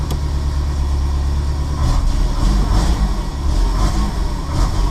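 A Renault Super 5 1.1 Turbo sits idling while still cold, its engine giving a loud, steady low rumble close by with a slightly uneven pulse, with no one talking over it.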